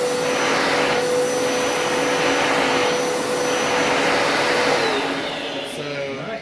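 A vacuum cleaner roars steadily while drawing air through a wet carpet, a loud broadband whoosh with a constant whine and no speech over it.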